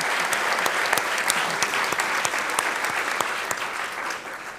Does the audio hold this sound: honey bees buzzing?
no